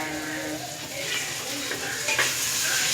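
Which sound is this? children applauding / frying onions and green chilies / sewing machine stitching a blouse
frying onions and green chilies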